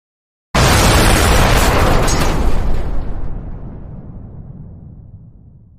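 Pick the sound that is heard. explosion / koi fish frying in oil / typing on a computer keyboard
explosion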